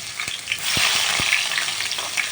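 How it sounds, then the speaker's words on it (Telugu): Tempering seeds fry in hot oil with a steady bright sizzle, punctuated by a few sharp pops and crackles as they splutter in the pan. "చూడండి, తాలింపు గింజలు వేగిపోయాయి."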